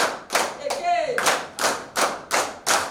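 A training group in Osogbo, Osun State does a patterned unison clap: loud synchronized hand bursts in a steady rhythm, with a short vocal whoop near the start before several evenly spaced final claps.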